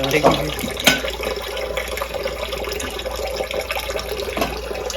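Water runs from a kitchen tap into the sink in a steady rush, with a few brief clatters and voices talking over it.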